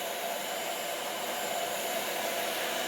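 A heat gun blows onto an oiled leather holster for a Ruger Vaquero, producing a steady, even whooshing roar with no breaks and no speech.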